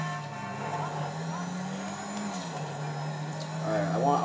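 A maxed-out muscle car with a supercharger blower and flames accelerating in GTA 5, its engine holding a steady droning tone that climbs slightly, while someone talks over it.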